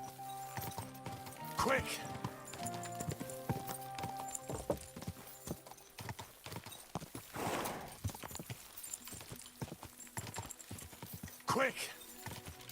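Horse hooves clip-clopping in a medieval video game, a quick steady trot with occasional whinnies, heard under a voice talking and urging the horse on.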